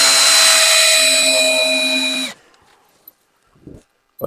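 A power drill drives screws into a barricade, securing T-posts to skids outdoors in cold weather; a loud, steady high whine runs for about two seconds, then cuts off and is followed by faint knocks.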